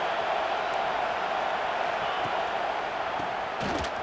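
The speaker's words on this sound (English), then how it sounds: "Listen to this crowd just shaking the girders of this place," A stadium crowd in the EA College Football 26 video game roars in a steady, dense wash of cheering that fills the whole stretch, with faint commentary underneath.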